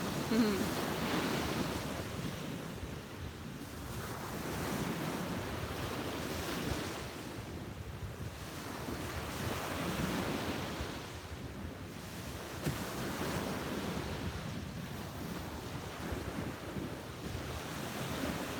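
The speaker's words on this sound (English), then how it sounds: "You can really tell how much more powerful the waves are here." Powerful ocean surf breaking on a beach at sunrise, the waves rolling in and crashing in repeated swells with steady wind noise buffeting the microphone throughout.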